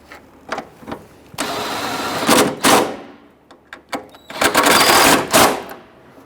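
A power tool snugs down AC condenser bolts on a 1999-2004 Jeep Grand Cherokee, giving two loud, whirring bursts of a second or more each, separated by clicks and handling noises.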